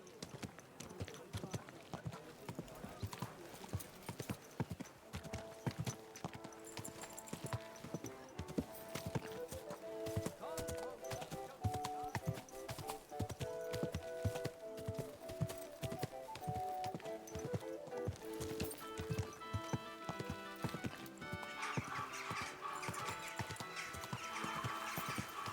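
Horse hooves clip-clop steadily during a ride in the video game Kingdom Come: Deliverance 2, with whinnies and neighs over a busy music and ambience bed, close and continuous.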